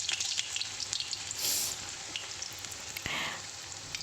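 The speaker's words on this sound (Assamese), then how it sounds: "এয়া প্ৰথমতে মই আলুখিনি ফ্ৰাই কৰি ল'ম।" Potatoes frying in a small amount of oil in a wok, a steady close sizzle with brief louder hissing bursts as they are stirred, no voices.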